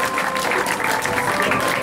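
An audience at a naat competition prize distribution ceremony gives a sustained burst of dense, close applause for a young prize winner.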